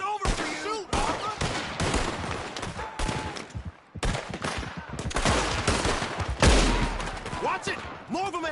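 Gunfire in Red Dead Redemption 2 during a story-mode shootout, with repeated shot bursts and impacts spread throughout, mixed with game voices shouting and talking over the fighting.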